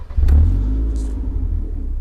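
A Morgan 4/4 with a side exhaust starts instantly, its engine catching with a short burst and then holding a deep, rumbling idle close by for about two seconds, with no voices.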